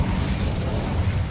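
A fiery Incendio spell blast from Hogwarts Legacy, a dense roaring burst of flame sustained at steady loudness for the whole moment, heavy in low rumble with no talk over it.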